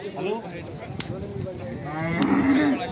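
A dairy buffalo at the Erragadda Sunday buffalo market moos, a low drawn-out call rising near the end, amid faint background market noise and a couple of sharp knocks.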